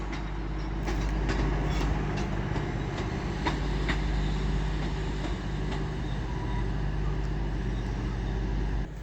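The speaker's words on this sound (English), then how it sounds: "So now pulling in is another LNER service to Edinburgh." An LNER service bound for Edinburgh pulls into York station on the East Coast Main Line, a steady, close low rumble of rolling wagons and engine drone holding for several seconds with faint clicks and squeals over it.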